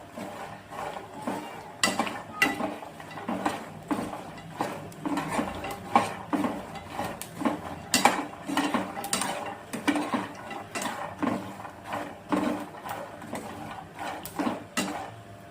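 Salted makhana (fox nuts) is stirred in a pan over a low flame. Close, irregular clinks, scrapes and light rattles repeat steadily as the spoon moves the nuts, and no one speaks.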